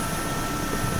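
A Mi-8 helicopter flying in the combat simulator game DCS, a brief, steady and dense turbine-and-rotor drone with no change in loudness.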